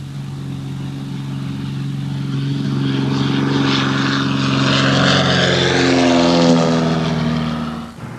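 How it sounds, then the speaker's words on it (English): A propeller plane flying low over a herd in the bush, a loud steady engine drone with a rising, shifting pitch as it passes close, alone without talk. "now the plane really pays off."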